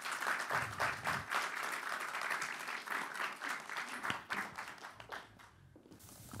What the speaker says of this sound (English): please give a big applause to Jan Sleutels